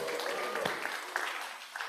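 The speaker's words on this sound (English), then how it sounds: "we could do better than that clap" Congregation clapping during a church service celebrating an endowment goal, a steady, moderately faint patter of many hands applauding together, continuous with a few sharper individual claps.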